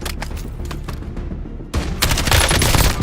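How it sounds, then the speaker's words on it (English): Rapid gunfire in a Call of Duty match, bursts of automatic shots that pause briefly, then return as a louder, denser volley of close, heavy fire. "Incoming shots."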